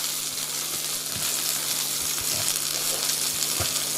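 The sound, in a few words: spring onion and dill frying in a pan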